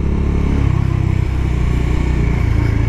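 Bajaj Dominar 400 motorcycle engine running close and loud on a test ride, a steady low throbbing drone with rhythmic pulsing and no speech over it.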